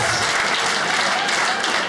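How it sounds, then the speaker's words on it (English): A comedy club audience at a stand-up show applauds loudly and continuously, a dense, close wash of clapping with no break. "Please don't clap for that."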